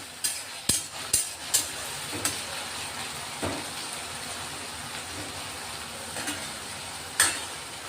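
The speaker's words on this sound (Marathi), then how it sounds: "आता कांदा आणि हे बटाटे चांगले परतून घेणार आहेत आपण." Chopped onion and peeled raw potato sauté in a pan, giving a steady low sizzle broken by several sharp scrapes and clinks of a spoon against the pan.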